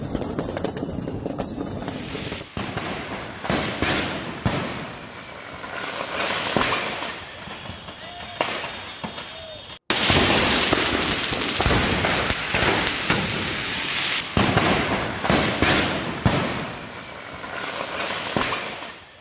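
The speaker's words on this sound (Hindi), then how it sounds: "दुकान के अंदर जो क्रैकर्स थे, पटाखे थे, उसके बाद काफी वहां पर एक के बाद एक धमाके होते रहे।" Firecrackers burst one after another inside a burning fireworks shop, a loud run of sharp cracks and bangs layered over a roaring, crackling blaze.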